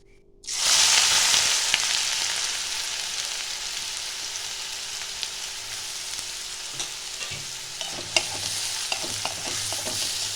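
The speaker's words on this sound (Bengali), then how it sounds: "পেঁয়াজটা আমি হালকা করে ভেজে নেব।" Chopped onions with a bay leaf and a dried red chili drop into hot oil in a pan and sizzle loudly and steadily, with occasional scrapes and taps of a stirring spoon, and no voices.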